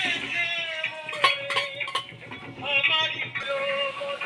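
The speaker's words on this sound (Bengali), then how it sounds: "মশলাটা কষিয়ে নিচ্ছি।" Spices for a vegetarian ridge gourd dish (cumin, bay leaf, green chili, tomato, turmeric, chili powder, sugar) being sautéed in a pan, with a run of metal clinks and scrapes from stirring over a soft background.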